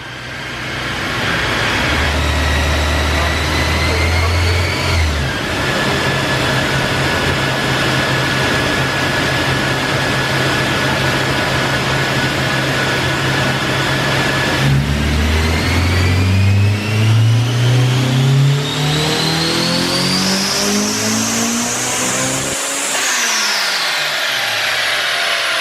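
A Honda S2000 CR engine revs hard on a tuning session, holding steady loud drones then climbing in repeated rising sweeps before cutting off abruptly near the end.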